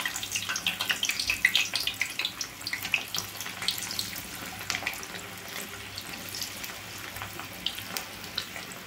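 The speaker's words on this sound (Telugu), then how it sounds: "ఆయిల్ అయితే హీట్ అయిందండి. ఇంకా పకోడీని వేసేసుకుందాం." Cauliflower 65 pakoda dropped into hot oil and frying, a steady crackling bubbling sizzle with dense small pops throughout, moderately quiet and without talk.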